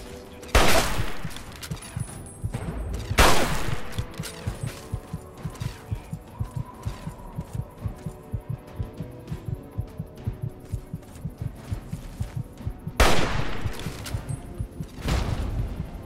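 Rifle fire in Fallout 3, with a few loud, sharp shots spaced several seconds apart over a steady low rhythmic thumping in the game, and no voices.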